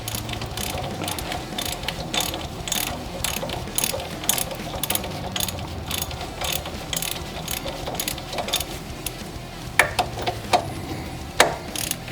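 A hand ratchet snugging wheel lug nuts on a car, rapid rhythmic pawl clicking in repeated bursts. A few sharper metallic knocks come near the end. Close and fairly loud, with no talking.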